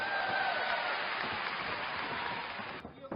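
A crowd at a kickboxing fight claps in a dense, continuous patter, a broad wash of applause that fades slightly near the end.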